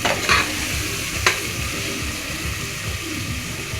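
Tomato and Kashmiri chilli paste sautéing in plenty of oil, a dense continuous sizzle and bubbling close up, with a couple of sharp utensil scrapes early on and no talking.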